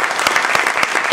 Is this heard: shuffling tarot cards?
no